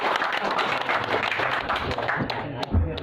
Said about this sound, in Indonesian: Tepuk tangan untuk jenengan semua.